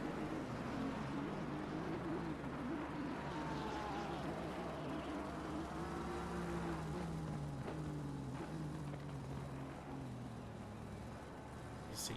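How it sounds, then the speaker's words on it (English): Race car engine in a sim racing event at Misano, a continuous droning engine note sliding down in pitch as the revs drop under engine braking, with talk running over it. "Bit of engine braking there while you're at it."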